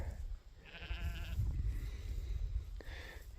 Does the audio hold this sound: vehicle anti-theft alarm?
no